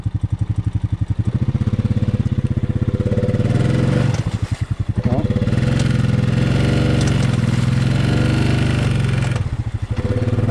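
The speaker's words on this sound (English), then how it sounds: "I think I got some axles going here. They don't sound the healthiest." A Honda Rubicon 500 ATV with worn axles runs close by, its engine thumping rhythmically with varying revs and a few dips.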